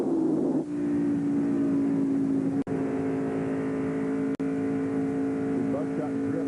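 A Chevy stock car in a 1997 NASCAR Busch Series race at Michigan drones steadily at high revs with a strong engine tone, briefly cutting out twice as the driver backs off the throttle, with crowd and track noise around it.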